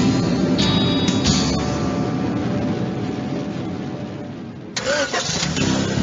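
Car engine cranking and catching in a Grand Theft Auto: Vice City radio advert, a loud starter whir followed by a steady idle and a revving burst near the end.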